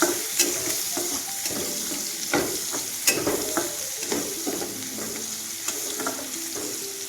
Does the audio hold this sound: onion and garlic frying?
yes